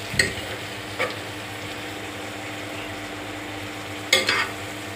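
Onions frying in a pan give a soft steady sizzle, and a spoon scrapes and stirs against the metal three times, close by and with no voices.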